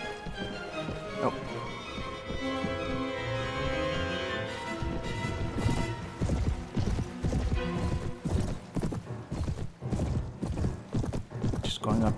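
Rhythmic hoofbeats of a galloping horse in a busy Mount and Blade: Warband Viking Conquest battle scene, with a whinny and clashing effects layered over music and speech.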